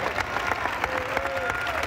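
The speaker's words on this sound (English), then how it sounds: "let's put our hands together and give the Lord a big hand clap of praise tonight" A church congregation claps in praise at an evening service, a dense, steady round of applause with scattered cheers rising through it.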